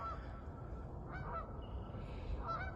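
Nesting geese defend their territory beside a river trail, giving several faint, distant honks over a low background rumble.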